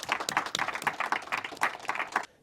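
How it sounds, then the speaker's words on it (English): An audience claps for a couple of seconds at an evening talk, a fairly faint and uneven patter of hands that stops abruptly. "If we can give a round of applause."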